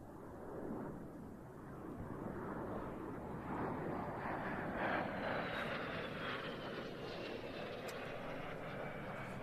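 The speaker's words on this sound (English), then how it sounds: "this is the arrival of the Italian Air Force A-200A Tornado" An Italian Air Force A-200A Tornado jet makes a flyby at an airshow arrival, a broad roaring rush of engine noise that builds and peaks mid-pass, heard at a distance with no speech.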